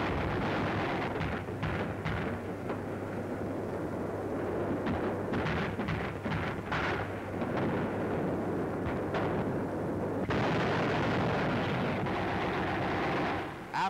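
Allied artillery pounds Aachen in a 1944 wartime newsreel, a continuous rumbling barrage of heavy booms and bursts that fills the whole stretch, loud and dense with repeated sharp impacts throughout.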